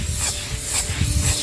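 WD-40 sprayed and rubbed on an Audi Q3 interior during cleaning, a close, continuous hiss blended with scrubbing friction.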